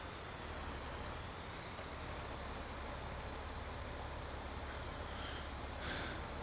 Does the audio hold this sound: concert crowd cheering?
no